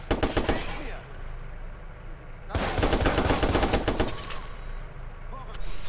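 Automatic gunfire in Watch Dogs rattles out in rapid, loud bursts: one at the start, a longer sustained volley in the middle and a short burst at the end, with quieter gaps between.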